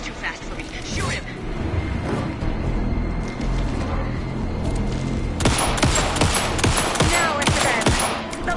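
Rapid bursts of gunfire in the survival horror game Alan Wake 2, dense and loud, with a heavier volley of shots in the second half, mixed with game sounds and voices.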